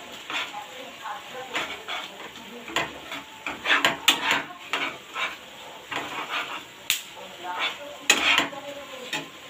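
Maggi noodles and spices are stirred in a pan, giving repeated close metallic scrapes and clanks of a utensil against the pan over a light sizzle.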